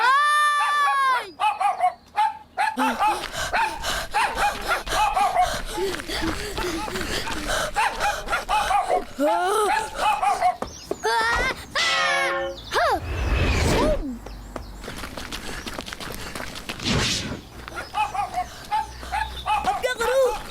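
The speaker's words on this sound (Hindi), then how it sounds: "ये कुत्ता तो मेरे पीछे ही लग गया।" A dog barking while chasing someone in an Islamic kids' show, with repeated yapping barks and yelps scattered across the clip, mixed with bursts of commotion and other animal-like cries.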